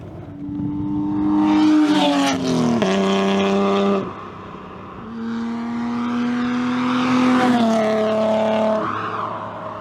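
A classic BMW E30 engine revs up and shifts repeatedly, rising in pitch and falling as gears change, with throaty intake roar close to the listener.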